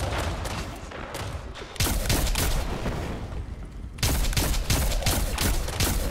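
Sniper gunfire in the video game Destiny 2, a dense barrage of sharp cracking shots and booming reports in rapid bursts, loud and close, with a heavier volley breaking out partway through.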